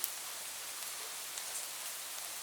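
Faint, steady rain falls with a soft, even hiss, quiet and unbroken.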